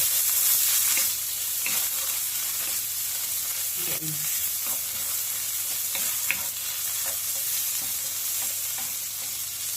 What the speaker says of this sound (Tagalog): Tapos haluin.